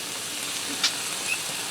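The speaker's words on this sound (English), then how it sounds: "I'm also going to add in 3 spoons of chopped garlic" Chopped garlic hitting a hot pan for Sloppy Joes gives a steady, moderately loud frying sizzle with a brief sharper hiss partway through.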